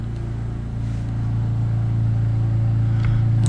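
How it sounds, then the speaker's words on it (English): A leaf blower or lawn mower runs outside a window, a steady loud engine drone and rumble that rises slightly in intensity and carries on throughout with no voices. "There's a man running a leaf blower or lawn mower outside my window. I apologize for the noise."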